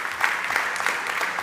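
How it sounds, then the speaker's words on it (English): An audience at a startup pitch stage event applauds, a steady patter of many hands clapping at moderate volume for a brief moment. "Please give our VIP judges a big round of applause."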